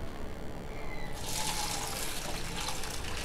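Water pours from a tap or vessel into a pot of mixed dals being prepared for dal khichdi, a steady close gush that starts partway through and continues to the end.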